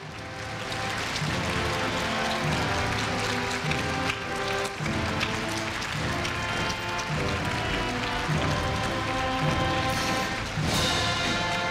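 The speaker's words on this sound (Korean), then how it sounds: "입장하고 계시는 총장님과 교무위원님들께 끊임없는 큰 박수 부탁드립니다." Sustained applause fills the hall at a Korea University freshman entrance ceremony in 2015 as the president and faculty enter, an unbroken, even patter of many hands over steady ceremonial music.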